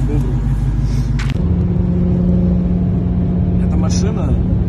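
A Dodge Challenger with carbon-fibre trim rumbles with a deep, steady exhaust drone after a brief burst of noise at the start, close and loud, with no talk.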